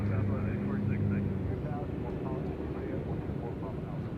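A British Airways airliner flies near Nashville International Airport, a distant, steady roar that holds for the whole stretch while people talk over it.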